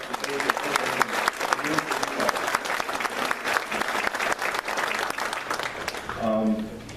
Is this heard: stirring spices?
no